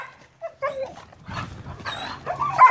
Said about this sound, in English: Can't even keep up with my dog.